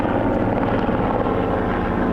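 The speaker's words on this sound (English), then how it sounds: "You know how much that helicopter cost me? Here it comes." A helicopter passes overhead during a drone shot, its steady rotor and engine drone loud and continuous across the whole stretch, with no voices.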